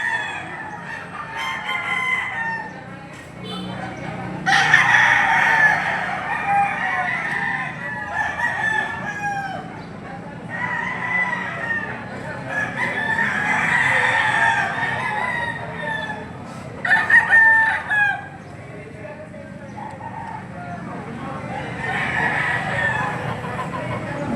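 A Milsing Gray line gamefowl rooster at a gamefowl sale crows repeatedly in drawn-out calls spread across the whole stretch, fairly close and loud, over a steady murmur of background noise.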